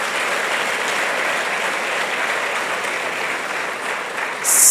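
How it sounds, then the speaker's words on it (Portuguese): Dense, steady applause from a church congregation during a sermon, sustained and loud from start to finish, with a brief brighter swell right at the end. "Vamos aplaudir esse Senhor."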